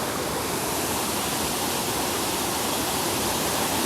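A seaside waterfall in Ratnagiri, swollen by monsoon rain, pours with a steady, heavy rushing roar, close and continuous, with no voices over it.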